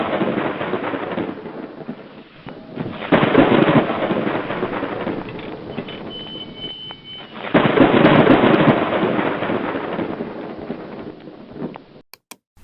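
Thunderstorm effect: rumbling thunder rolls in two loud surges over a steady wash of rain, ending with a few sharp crackles, no voices.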